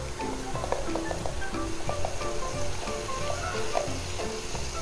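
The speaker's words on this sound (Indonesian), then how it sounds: "Kemudian kita akan menumis bumbu yang sudah kita haluskan tadi ya." Ground spice paste sizzles steadily in about three tablespoons of hot oil as it is stir-fried for empal gepuk, with a continuous frying hiss and scattered scraping taps of a spatula against the pan.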